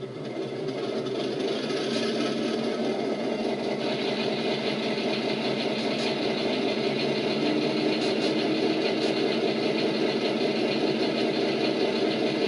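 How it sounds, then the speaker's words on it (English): A model locomotive's motor runs steadily after firing up, giving a continuous, even mechanical hum and whir that holds at constant loudness throughout, alone with no talk. "We can now hear the locomotive motor firing up."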